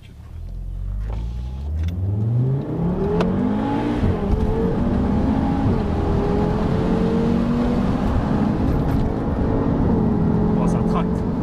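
Audi RS3 8P with a Milltek exhaust pulling away from a standstill, its engine note climbing through the revs in rising sweeps with gear changes, loud and close inside the car as people talk over it.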